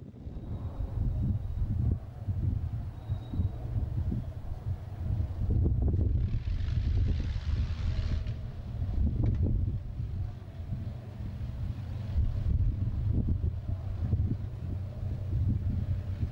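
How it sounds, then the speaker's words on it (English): An Avro Lancaster bomber weighing some 15 tons taxis out toward the runway, its engines giving a continuous deep droning rumble, with a brief hiss partway through and no talk. "some 15 tons of Lancaster begins to move, taxiing out to the runway"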